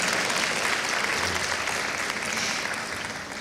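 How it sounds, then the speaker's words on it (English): A crowd at a white coat ceremony claps for cohort members, a dense, loud wash of applause that holds steady and then begins to taper slightly toward the end. "Would you give our cohort 2 members a round of applause"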